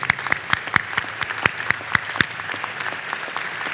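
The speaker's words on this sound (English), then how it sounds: "So please join me in giving a big round of applause." An audience at a high school safety summit breaks into applause, with sharp individual claps standing out over a steady wash of clapping, fairly close and loud.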